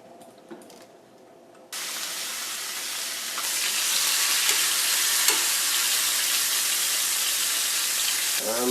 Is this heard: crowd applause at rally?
no